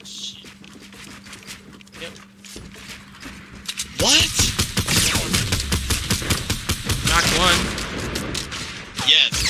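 Rapid gunfire bursts crack out in a Fortnite match while the player builds, loud clustered shots following a quieter opening of footsteps and small clicks, with voices briefly talking in between.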